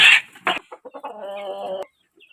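A rooster's call, a few short clucks leading into a sustained, tonal crowing note, close and fairly loud, with no talking.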